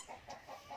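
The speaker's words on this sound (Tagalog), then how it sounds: "pasensya na kayo sa background ko ng mga manok" Faint, soft clucks from chickens in the distance, a few short rhythmic calls over a quiet background in the countryside.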